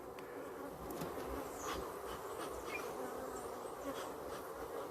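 Honey bees buzz thickly around brood frames at a hive, a close, continuous drone. Individual bees swoop past now and then, briefly rising in pitch.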